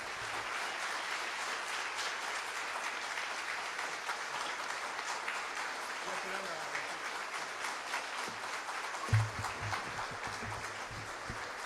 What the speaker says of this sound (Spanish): Este aplauso es todo, absolutamente todo para vos.